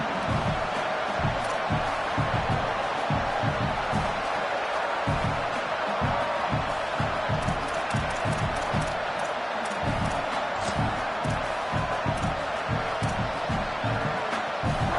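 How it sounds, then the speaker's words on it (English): A home crowd at a football game roars steadily from the start, a dense far-off wash of cheering and voices with rhythmic thumping pulses running through it, under faint commentary. "this home crowd getting involved right from the start"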